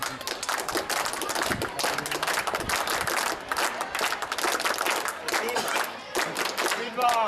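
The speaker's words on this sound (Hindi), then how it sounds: "ये 78 के बैच के लोगों को बताएं कि अपनी जो पीटी होती थी उसमें अपनी ताली कैसे बजती थी।" A group of former students at a school reunion clapping the old PT drill clap in unison, a dense, rhythmic run of claps with crowd voices mixed in throughout.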